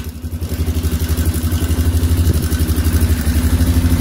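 A Polaris Sportsman AWD ATV engine runs close and loud at a steady idle, with a fast regular pulsing throb and mechanical clatter as the back wheel turns.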